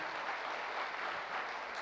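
Loud, steady applause from an audience filling the hall at a cultural evening, following a poem recitation, sustained clapping with no break throughout.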